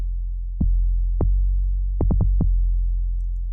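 Heavy 808 bass hits from the Monotone synth in Reason 10.4 with gritty Scream tape distortion play a sparse pattern: two single notes, then a quick cluster of four, each ringing low.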